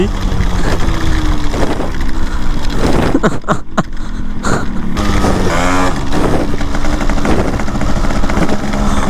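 A Yamaha RX135 motorcycle engine revs loudly and continuously, its rising and falling whine running through the whole stretch while excited voices talk over it.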